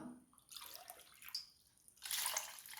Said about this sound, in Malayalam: വെള്ളം നമുക്കിതിലേക്ക് ഒഴിച്ചു കൊടുക്കാം